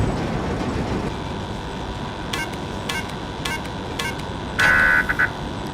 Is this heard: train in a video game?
yes